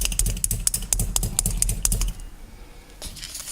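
A meat tenderizer strikes a T-bone or porterhouse steak in a quick, irregular run of sharp, close taps for about two seconds, then a pause and a few more scattered hits.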